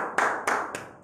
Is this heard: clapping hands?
yes